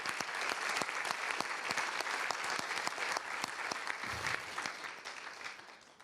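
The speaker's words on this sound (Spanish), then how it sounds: "un aplauso al diálogo, un aplauso grande a lo que surgió acá" An audience at a public education policy dialogue with political representatives breaks into sustained, dense applause, crisp claps close by over a full crowd wash, easing slightly toward the end.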